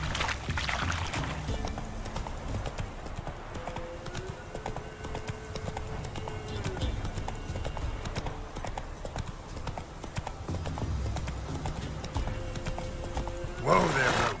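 Roach, a horse in a video game, clip-clops along at a steady rhythmic pace, hooves close and clear, with a whinny and a rider's voice over game music.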